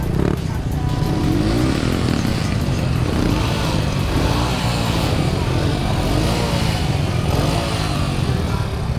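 A Honda Astrea motorcycle engine drones loud and close without a break during a group ride toward Bukit Mantar in Sumbawa, its buzzing pitch swelling slightly as the throttle opens.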